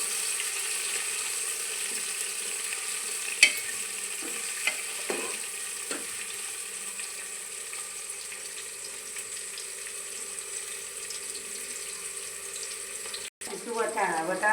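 Onion frying gently in oil over a low gas flame for a khichdi dish gives a steady, soft sizzling hiss, broken by a few light clinks of stirring and a louder clatter near the end.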